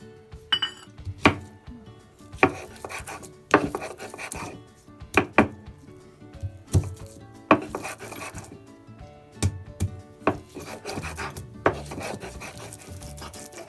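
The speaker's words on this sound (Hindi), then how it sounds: "सिलवट्टे पे मैं अपना ये बथुआ जो मैंने उबाल के रखा हुआ इसको पीसती हूँ" Boiled bathua greens with green chilli, ginger and garlic ground on a silbatta stone: a rhythmic series of rough scraping, knocking strokes, roughly one each second, close and fairly loud with no talk.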